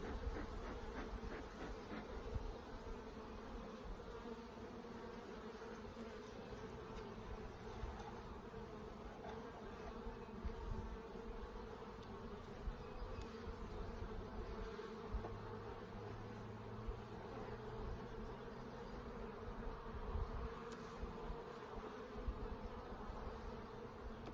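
Honeybees buzz continuously at an open hive during a summer inspection, a dense, even drone of many insects with individual bees passing close, faint and without talk.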